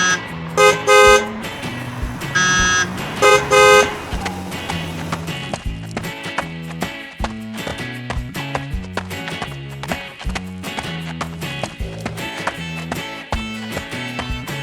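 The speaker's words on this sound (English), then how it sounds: "Because of the noise, Dog is struggling in the busy traffic." Cartoon street traffic in a busy road scene: loud car horn toots in repeated bursts, then a steady run of clip-clopping, bouncing vehicle sounds, close and loud, with no talking.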